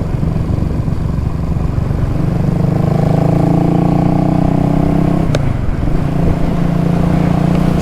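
A Honda CB350 motorcycle is ridden on the road, its engine droning loud and steady from the rider's position with a rising pitch as it accelerates, a brief shift dip, then a steady cruise.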